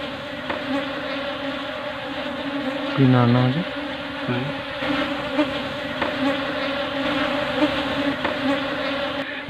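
Honey bee drones buzzing steadily in a dense hum, with a louder droning swell passing near midway and a brief spoken question.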